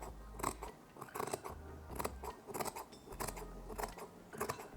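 Scissors snip repeatedly through several stacked layers of old T-shirt fabric, about seven crisp, close cuts in a steady rhythm with no talking.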